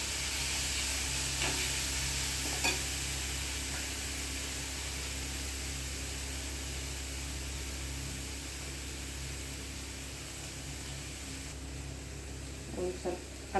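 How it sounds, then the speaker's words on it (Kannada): Moong dal roasting in a little oil while being stirred, giving a steady broad sizzle and hiss with a few faint utensil scrapes and knocks, close by and fairly even throughout. "1-2 ಸ್ಪೂನ್ ಹೆಸರು ಬೇಳೆ ಇನ್ನೂ ಸ್ವಲ್ಪ ಹುರ್ಕೋಬೇಕು"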